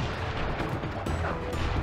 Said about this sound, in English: I will send you to your doom with the beauty of my new firework technique